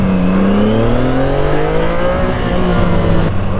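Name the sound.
CFMoto 675SR inline three-cylinder sportbike stock exhaust revving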